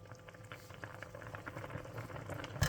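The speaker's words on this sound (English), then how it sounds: "So to reduce it, we will put this on high heat" Braised pork belly sauce reduces over high heat, giving a soft, fairly faint bubbling and popping close by that grows slightly busier toward the end.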